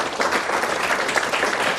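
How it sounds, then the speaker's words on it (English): A conference audience at Cisco Connect Philippines 2014 applauds with dense, steady clapping that fills the short moment. "Give a warm applause with that."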